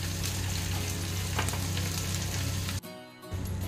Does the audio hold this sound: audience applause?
no